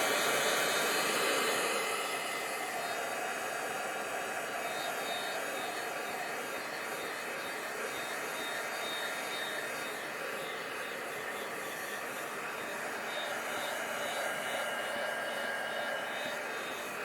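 A hair dryer blows steadily on a piece of craft work, a continuous close whooshing roar that stays even throughout.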